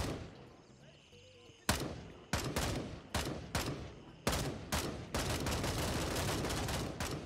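In the Grayzone Warfare video game, gunfire cracks out as a rapid string of loud shots, first spaced, then merging into sustained automatic fire, following a quieter opening.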